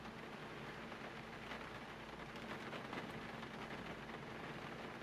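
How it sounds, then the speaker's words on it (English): Steady rain drums on a roof in the Gold Rush gold mining simulator game, a continuous dense hiss with soft patters, even and unbroken throughout with no talk. "Hear that rain hit the roof."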